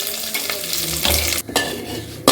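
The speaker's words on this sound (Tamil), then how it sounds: "இப்போ வெங்காயம் நல்லா சரக்காக வந்துருச்சு" Onions sautéing in a pan for mutton soup give a loud, close frying hiss with stirring and brief scrapes against the pan, no voices.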